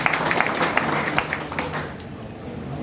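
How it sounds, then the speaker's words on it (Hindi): An audience gives a round of enthusiastic applause for the speaker, dense clapping that fades during the final second. "सर के लिए जो एक बार जोरदार ताली"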